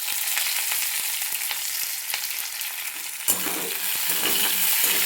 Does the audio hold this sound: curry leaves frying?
yes